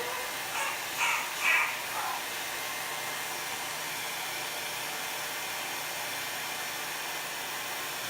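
A heat tool blows a steady, airy whoosh as it heat-sets paint on a canvas tote bag, with a few brief faint sounds near the start.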